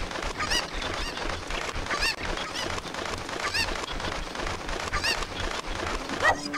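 Cucco chickens in Ocarina of Time, a repeated run of honking, squawking clucks at a steady rhythm over a busy game background, no talking.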